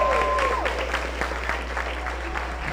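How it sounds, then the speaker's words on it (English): Audience at a high school spring concert applauding, a full crowd clapping that is strongest at the start and thins out slightly, with a brief tone sliding over the opening. "So give yourselves all a round of applause."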